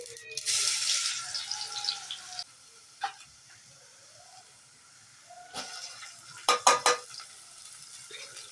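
Garlic tempering hits hot peanut oil for eggplant olo on a clay stove, a bright sizzle lasting about two seconds, then quieter stirring with a few sharp utensil clinks and scrapes near the end.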